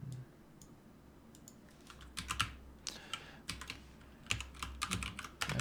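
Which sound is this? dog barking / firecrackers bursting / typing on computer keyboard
typing on computer keyboard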